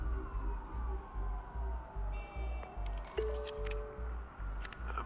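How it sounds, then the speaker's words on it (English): Police car sirens wail and sweep in pitch in the Batman Telltale video game, layered over a heavy, rhythmic low thumping that pulses throughout. "There are quite a few police cars convening on your location."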